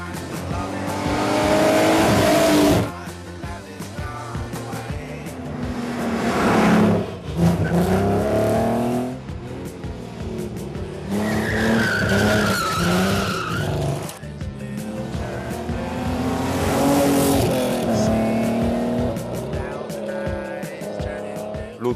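An unmodified Alfa Romeo GTV6 race car drives hard, its loud engine rising and falling through the revs and its tires squealing in several long, sustained bursts, close and continuous throughout.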